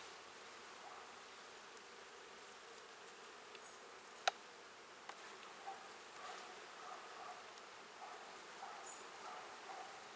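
Honeybees hum faintly and continuously around a pollen-filled hive frame of a colony that has settled into its new hive, a soft even buzz with a few tiny clicks.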